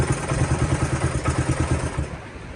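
A Honda CT90 motorcycle engine idles nearby with a loud, uneven putter of rhythmic thumps that eases off near the end.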